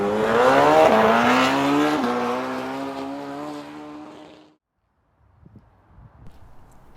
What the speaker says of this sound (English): Step 1 is to go for a ride on the bike.